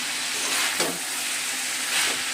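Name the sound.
snake gourd (chichinga) frying in a pan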